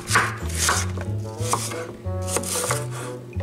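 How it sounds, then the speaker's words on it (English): Cosmic Crisp apples chopped on a cutting board, a brisk run of crisp, evenly spaced knife strikes, close and clear with no talking. "We'll go ahead and chop the apples."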